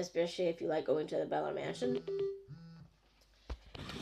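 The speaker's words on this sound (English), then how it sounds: "That was my phone going off." A mobile phone rings briefly after a stretch of continuous speech, its short repeated electronic tones standing out near the end under a quieter room.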